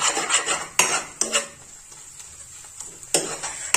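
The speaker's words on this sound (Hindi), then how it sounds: "अब इसको हम फ्राई करते रहेंगे" Potatoes are stirred while frying in ghee in a kadhai, with intermittent metallic scrapes and clinks of the spoon against the pan, quiet and close, separated by short pauses.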